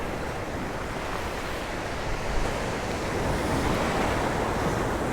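On a windy stretch of the Santa Ponsa coast in Mallorca, big waves crash against rocks. The surf makes a steady, loud roar under heavy wind buffeting, with no voices.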